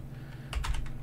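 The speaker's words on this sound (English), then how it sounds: "You have to start typing something" Brief burst of typing on a computer keyboard: a quick run of four or five close, light key clicks over a low steady room hum, with no talking.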